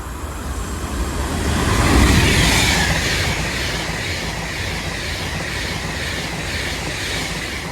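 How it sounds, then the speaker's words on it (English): A Pendolino train pulls out of Watford Junction bound for Glasgow, its loud rumbling roar building and then holding steady with some rail clatter, heard close from the platform. "as a Pedalino blasts off, going to Glasgow"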